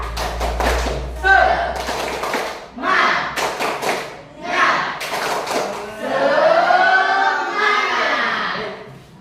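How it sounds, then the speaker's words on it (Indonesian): A classroom of students performs a rhythmic 'tepuk semangat' clapping routine. Sharp group claps and thumps come in patterned bursts, mixed with loud chanting voices. "Tepuk semangat."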